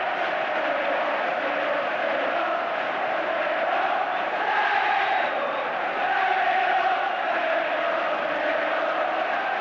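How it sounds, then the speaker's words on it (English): Football crowd at a Derby County match chanting "staying up" over and over, a massed, steady roar of voices that swells and dips slightly across the stretch, with no commentary over it. "staying up, staying up, staying up is the cry from the baseball crowd"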